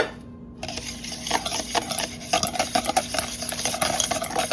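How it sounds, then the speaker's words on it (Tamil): Spice powders being stirred into yogurt for paneer tikka, a brisk run of close, repeated scraping and clicking strokes of a spoon against a bowl after a brief quiet start, with no talking. "இப்போ எல்லா பவுடரையும் நாம் தயிரில் கலந்தாச்சு. இதை நல்லா கலக்கி விட்டுக்கோங்க."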